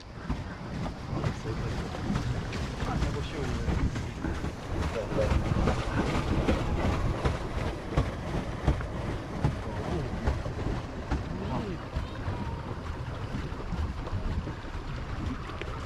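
Steady low rumble of twin 100-horsepower boat engines running continuously off Orebić, Croatia, with wind buffeting the microphone and faint voices mixed in.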